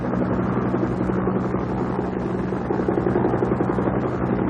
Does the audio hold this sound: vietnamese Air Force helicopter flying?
yes